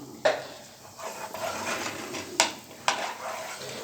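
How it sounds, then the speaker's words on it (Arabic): Minced garlic frying in ghee is stirred with a spoon in a pan, giving a soft steady sizzle broken by three sharp metallic scrapes or taps. "هنبدأ كده نقلب التومة مع السمنة"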